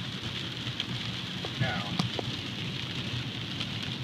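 Steady rain falls as a dense, even hiss around a parked vehicle fitted with a Stalker DSR radar unit, with a brief voice cutting in near the middle.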